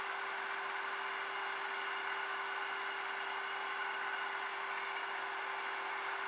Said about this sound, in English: you're just going to turn on the lathe again